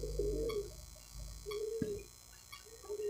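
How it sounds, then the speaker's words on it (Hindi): Pigeons coo close by in a loft, with three soft, rolling calls at roughly one-second intervals over a low background hum, and no one speaking. "ये रहे कबूतर"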